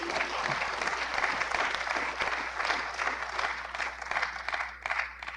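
Sustained audience applause fills a conference hall at the opening of a national council gathering, dense steady clapping throughout with no speech over it.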